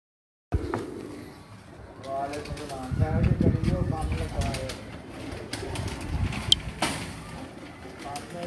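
A breeder pigeon on a rooftop coos in soft, repeated throaty bursts amid faint traffic and occasional clicks.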